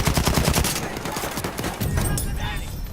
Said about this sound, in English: I'm using the Browning automatic rifle, also known as a bar, mostly because of its high damage and rate of fire